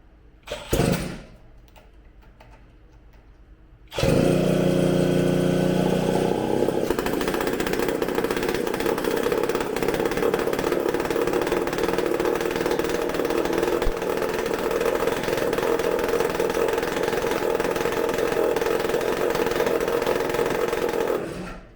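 A McCulloch supercharged chainsaw runs on a bench test. A brief sputter is followed by a quieter pause, then the saw bursts into a loud, steady, high-revving engine drone that holds for many seconds.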